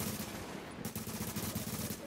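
Rapid gunfire from The Division video game, a burst of repeated close shots in quick rhythm, loud and alone.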